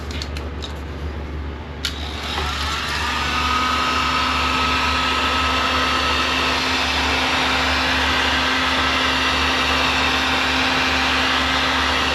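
A heat gun blows on an antique Century electric fan, a steady whooshing roar with a faint whine that swells slightly after a brief click and then holds constant and close.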